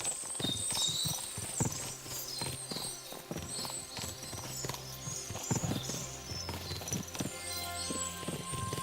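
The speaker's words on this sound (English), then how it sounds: "There are more horses here. What is it? Fuck! What a lot of horses!" Many hooves clip-clop steadily on hard ground as horses walk in the video game Kingdom Come: Deliverance II, with an occasional whinny and a faint musical backdrop.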